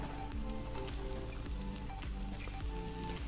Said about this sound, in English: Going to add in that quinoa now.